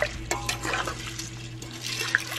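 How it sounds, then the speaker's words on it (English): A spoon stirs elderberry syrup ingredients, without the honey, in a cooking pot, with close scraping and clinking strokes over a steady low background hum. "you add all of the ingredients except for the honey and you stir them in"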